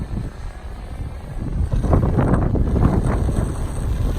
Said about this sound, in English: I'm fighting the wind just a little bit.